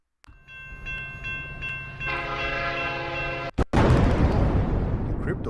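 A train horn blares with sustained harmonic tones, then a train rushes past loudly with broad roaring rumble, a sound effect set behind a crypto-news commentary.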